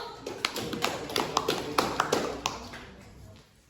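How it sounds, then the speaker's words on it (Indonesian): A small class claps for a student group in an Islamic education lesson, scattered distinct claps in an uneven rhythm, fairly close and moderately loud, tapering off toward the end. "Tepuk tangan untuk kelompok 1."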